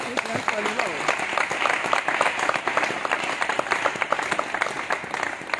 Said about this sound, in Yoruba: ẹ pàtẹ́wọ́ fọ́lọ́run dáadáa.